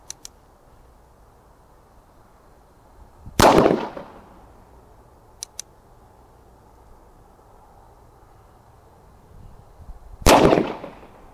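Two loud point-blank gunshots fired into ballistic gel, spaced several seconds apart, each a sharp blast with a short decay, with a couple of faint clicks between them over quiet background.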